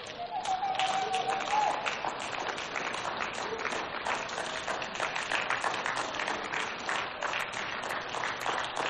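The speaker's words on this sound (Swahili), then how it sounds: "Pigia Bwana Yesu makofi." Church congregation at a live prayer and fasting service applauds together for Jesus, a dense sustained roar of clapping with crowd noise throughout, after a brief voice at the start.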